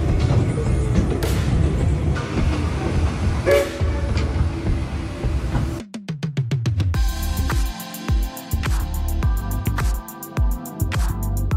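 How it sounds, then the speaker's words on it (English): An amusement park train ride at Hersheypark in Pennsylvania rumbles along with rhythmic wheel clatter and a loud horn, heard from on board, with a brief muffled moment before steady clacking resumes. "We're gonna ride the train now."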